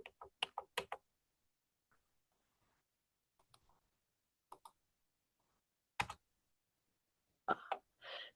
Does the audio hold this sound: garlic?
no